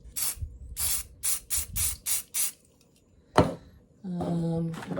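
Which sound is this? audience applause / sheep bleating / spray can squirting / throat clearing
spray can squirting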